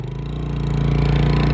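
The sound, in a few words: Lexmoto Vixen 125cc motorbike engine running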